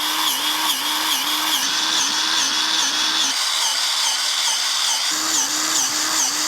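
A high-pressure grease gun loaded with a grease cartridge whirs steadily and loudly, with a regular pulsing cycle about every half second and a brief drop partway through.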